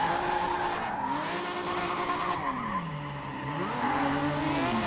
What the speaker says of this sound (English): Hold the drift as long as you can.